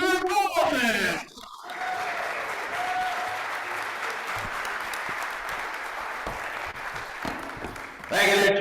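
Sustained applause from a roomful of people at a Rotary Club meeting, steady and fairly loud for several seconds, with a few voices briefly at the start and end.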